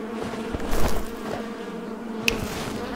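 Bees buzzing around a beehive in the video game REKA, a steady close drone with a few louder passes and a sharp click near the end.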